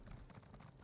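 Galloping horse in Elder Scrolls Online, sped up by a skill, its hooves drumming in a fast, dense rhythm under a loud, continuous wash of game sound, briefly and up close.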